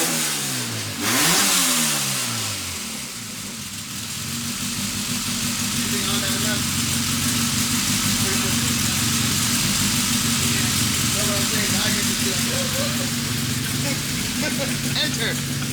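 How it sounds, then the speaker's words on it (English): Honda B16 four-cylinder car engine warming up from cold, a brief rev at the start settling into a steady, fairly loud idle that holds evenly throughout. "This thing sounds like gnarly race car right now."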